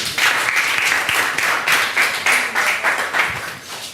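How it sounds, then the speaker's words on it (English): Audience applause for Scott, dense close clapping in steady pulsing waves that taper off slightly toward the end. "Can you clap for him?"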